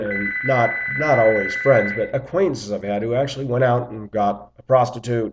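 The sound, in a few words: telephone ringing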